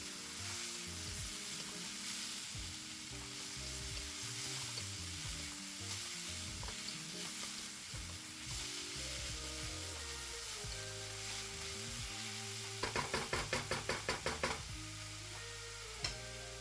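Carrots and beef tossed in a hot wok for a stir fry, giving a steady close sizzle with stirring scrapes throughout and a burst of rapid rhythmic clatter near the end.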